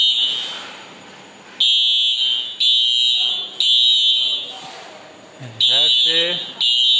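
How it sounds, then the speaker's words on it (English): An industrial fire alarm horn pulses in loud, high-pitched bursts, roughly one per second with short gaps, while someone talks over it. "That's a fire alarm indicator."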